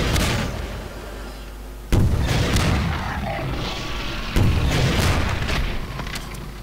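Grenade launcher blasts in the video game Half-Life 2 fire in two heavy booms that roll into rumbling debris and crackling gunfire, loud and dense with no pause.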